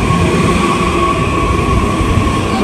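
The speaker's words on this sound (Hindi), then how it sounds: "so finally here I am at the Frankfurt main railway station" A train at Frankfurt's main railway station gives a loud, steady rumbling roar with a faint whining hum and no talk, filling the whole stretch evenly.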